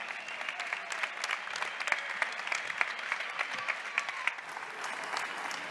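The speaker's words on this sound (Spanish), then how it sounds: "Un aplauso, por favor." Outdoor crowd applause at a May Day labour rally in Madrid, a moderately distant, crackling spatter of clapping lasting several seconds with no talk over it.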